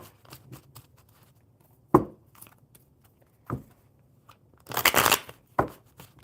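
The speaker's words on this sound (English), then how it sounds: "One more good shuffle." A deck of tarot cards being shuffled by hand indoors, with crisp riffle bursts and taps spread irregularly, including one longer dense riffle, close and clear with no talk.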